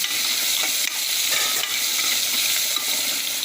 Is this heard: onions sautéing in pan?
yes